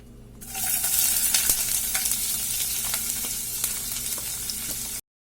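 Long-sliced onion dropped into hot oil with crackling mustard seeds and curry leaves, a sudden loud sizzle that holds steady with stirring scrapes and small pops, close and alone.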